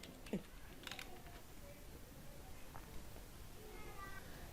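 Keys tapped on a computer keyboard while entering a search term, quiet scattered clicks at close range over a low room hiss, with a few brief louder taps.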